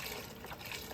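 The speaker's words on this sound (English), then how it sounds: "put in 4 cups of beef broth" Low sodium beef broth pouring from a box into a pot of beef barley soup, a faint, brief trickling splash of liquid.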